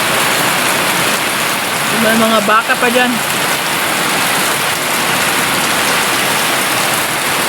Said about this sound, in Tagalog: Ang ulan, ang lakas.